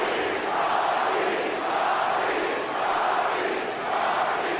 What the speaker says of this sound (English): Listen to this crowd, man.